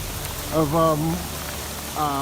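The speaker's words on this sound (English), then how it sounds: "Right now we got hail the size of what" BB-sized hail patters steadily on a 1965 Santa Fe travel trailer, a dense, even drumming beneath a voice that talks over it in short bursts.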